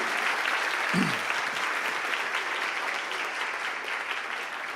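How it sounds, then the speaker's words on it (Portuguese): A church congregation applauding during a baptism service, continuous dense clapping that fills the room at an even level from start to finish, with a brief low voice near the beginning. "pode aplaudir"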